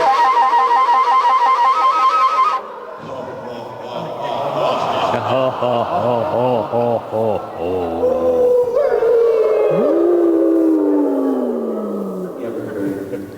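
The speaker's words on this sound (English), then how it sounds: "You ever heard coyote howling?" A coyote howl rises and falls in long sliding wails at an outdoor Earth Day celebration, loud and close, preceded by a harmonic yipping chorus.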